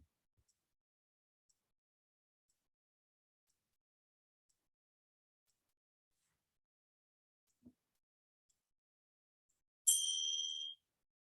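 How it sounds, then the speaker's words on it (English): A single bell strike closing a yoga practice, ringing out clearly near the end with a bright, sustained tone that decays over about a second in an otherwise near-silent room. "the sound of the bell marks the end of our practice today"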